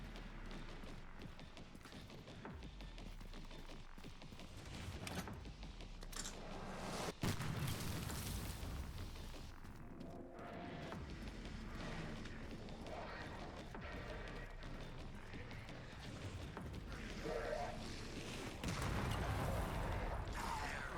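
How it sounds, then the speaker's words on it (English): Mortar fire in the video game Resident Evil Requiem: several dull booming blasts and crashes, some near and some more distant, scattered through a rumbling game soundscape. "who else is shooting mortars at me?"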